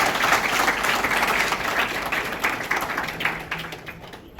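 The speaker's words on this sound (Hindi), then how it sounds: "मेरे ख्याल से जोरदार तालियां बजाना चाहिए साथ।" Steady, dense applause from a seated audience at a college curriculum event, continuous crowd clapping for several seconds with no speech over it.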